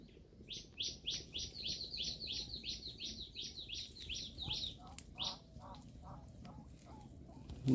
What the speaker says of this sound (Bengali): তাছাড়া অন্য ছোট পাখি কিচিরমিচির করছে